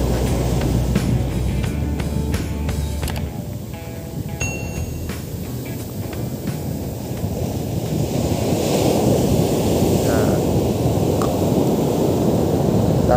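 Strong wind buffets the microphone on a seaside fishing shore, a constant loud roaring rush mixed with surging surf and no voices, steady for the whole stretch.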